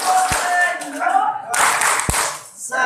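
A group at a Sunday morning religious gathering claps out the rhythmic tepuk senyum clapping game, with a couple of sharp claps and a burst of group clapping mixed with voices.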